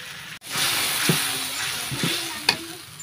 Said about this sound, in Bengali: মাছ ভাজা হয়ে গেছে আর মশলা কষাইতেছি